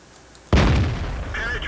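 A tank's main gun fires once in World of Tanks, the T25/2, a sudden loud boom that rolls off into a long rumbling tail with no talk over it.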